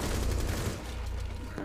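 Dense bursts of rapid gunfire fill the whole moment, loud and continuous, in a firefight in the shooter game Rainbow Six Siege.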